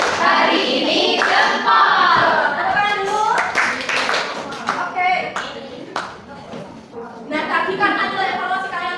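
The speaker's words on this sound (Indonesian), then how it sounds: "Tepuk tangan dulu" Children in a fifth-grade classroom clap their hands in bursts of sharp, quick claps, mixed with a teacher's voice and kids chattering around them.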